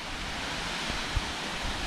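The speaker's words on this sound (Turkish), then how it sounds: "Burası Şeyhandede Şelalesi." Şeyhandede waterfall in Çermik, Diyarbakır, gives a steady, dense rush of falling water, a continuous broadband roar with no talk over it.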